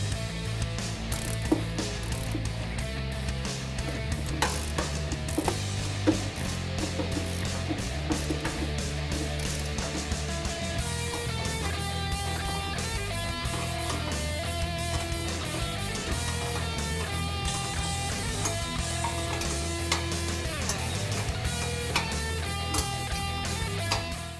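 A hand ratchet tightens exhaust bracket bolts on a 2015 Ford F-150 during an aFe cat-back exhaust install, giving rapid, close metallic clicking in repeated bursts over about 24 seconds, with no voices.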